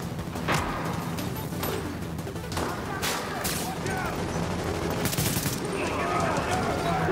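Gunfire in Tom Clancy's The Division, a co-op shooter, with bursts and cracks of weapon fire, including sniper shots, sounding repeatedly over steady game noise while players talk.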